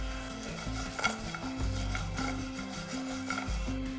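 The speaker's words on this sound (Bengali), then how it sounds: "দেখুন হালকা লালচে করে ভাজা হয়ে গিয়েছে" A spice paste with peanuts fries in a pan while being stirred steadily, soft sizzling under repeated scraping strokes of a spoon, close and fairly quiet.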